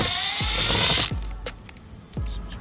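A ratchet and socket work a long bolt out of the front door area of a 2018 Nissan Versa during a speaker install, with rapid close clicking followed by several separate metallic knocks and scrapes.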